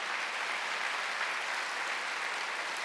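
A church congregation at a Wednesday worship service breaks into sustained applause, a dense, even wash of many hands clapping that holds steady throughout without voices standing out.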